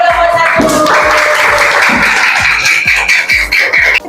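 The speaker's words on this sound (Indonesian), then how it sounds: "Oke, tepuk tangan untuk kelompok" Classroom applause for a student group during a solar-system quiz lesson, loud continuous clapping with rhythmic thumps and a steady hiss across the whole stretch, a voice briefly audible beneath it.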